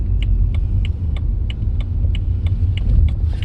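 2010 BMW 328i pulling slowly into a driveway, a steady low engine and tire rumble with a faint, evenly spaced ticking repeating about three times a second.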